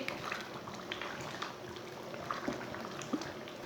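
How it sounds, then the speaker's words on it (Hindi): Masoor dal with potatoes cooking in a pot as a spoon stirs it, giving a soft, steady bubbling and gentle liquid churning at low volume. "ऐसे ऐसे चम्मच चलाते हुए 3 मिनट तक पका लेंगे।"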